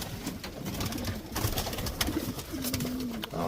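Show pigeons coo in a loft, with several soft, low, throaty coos, one drawn-out coo toward the end, over a busy background of rustling and shuffling.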